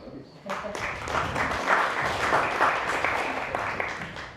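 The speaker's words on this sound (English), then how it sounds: "Clap for the Vice Chancellor." An audience at Lukenya University claps for the Vice Chancellor, a full burst of applause rising after a brief pause and holding steady, dense and close, with a little talk underneath.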